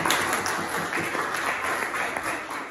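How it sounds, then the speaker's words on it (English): Warm applause from a church audience for the children after their performance, a dense continuous patter of many hands clapping at moderate volume with no talking over it. "Give the kids a round of applause"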